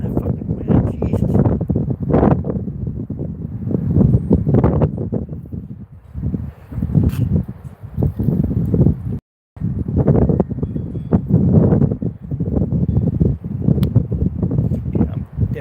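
Strong outdoor wind buffeting a microphone, loud rumbling gusts that roar almost continuously with one brief dropout, a voice faintly mixed in.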